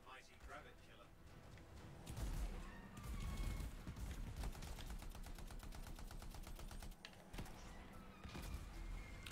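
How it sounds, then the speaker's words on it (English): Homing missiles fire in the video game Anthem, a dense run of rapid, rattling launches and impacts that starts loud, then keeps up over busy game noise, with fainter sporadic bursts toward the end. "Homing missiles are great."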